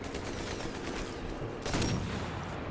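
Rapid bursts of gunfire in the video game Sniper Elite 4, rattling close and loud, with a heavier blast partway through and no talking.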